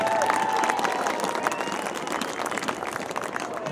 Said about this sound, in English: A round of applause for Bonnie Wilkinson.